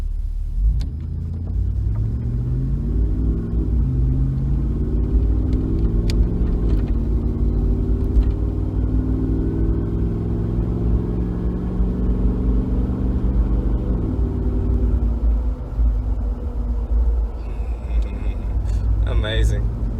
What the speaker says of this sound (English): Granatelli exhaust sound inside the vehicle is amazing.